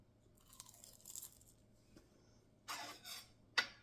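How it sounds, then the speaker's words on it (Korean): Close, crisp crunching and chewing of rice wrapped in roasted seaweed (gim), with a few short bites spread through a quiet room and louder crunches near the end. "이렇게 김에다가 똑같이 밥을 싸먹는 것처럼 밥을 싸서"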